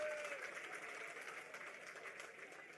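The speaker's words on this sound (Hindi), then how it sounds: "उनकी बहादुरी के लिए जोरदार तालियां बजा" Applause from an audience at a Hindi-language political rally, honouring the bravery of people, with a steady wash of clapping that is fairly faint and sustained throughout, a short tonal sweep near the start.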